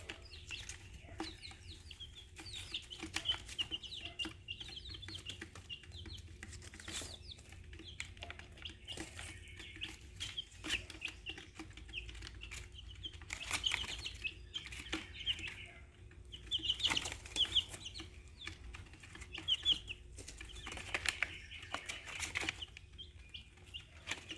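Chickens in a coop cluck and murmur on and off, with occasional wing flaps and scratching among faint rustles, quiet and fairly close, with no voices.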